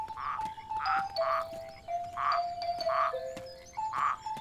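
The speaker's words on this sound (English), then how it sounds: "A whole chorus of frogs." Several frogs croak in a lively overlapping chorus, repeated bursts of calls with steady higher chirps threading between them, fairly close.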